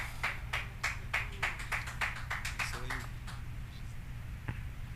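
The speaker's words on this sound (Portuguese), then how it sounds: "com alegria e palmas para o Senhor Jesus" A church congregation claps in a steady rhythm, roughly three claps per second, over a low constant hum, the claps thinning out and stopping shortly before the end.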